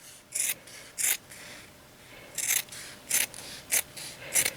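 Scissors snipping through the edge of knitted fabric for a cable charm purse, with about seven short, crisp cuts in uneven rhythm, close up and clear against a quiet background.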